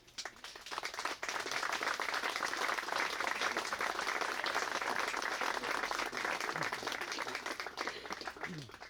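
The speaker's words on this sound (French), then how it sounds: "j'aimerais qu'on les applaudisse" An audience at an outdoor garden inauguration ceremony claps warmly, a dense, sustained burst of applause that swells quickly and holds for several seconds before starting to thin out.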